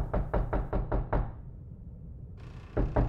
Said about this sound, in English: Who's knocking on the door?